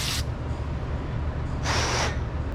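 Aerosol brake cleaner sprayed onto a sensor on a Ford Ranger during power steering pump work, two short hissing bursts, the second longer and stronger, over a steady low background hum.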